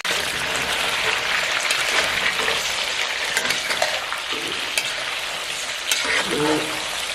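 Chicken fries and browns in a karahi for a Peshawari dhaba-style charsi karahi, giving a loud, continuous hiss and sizzle with occasional stirring scrapes and no talking.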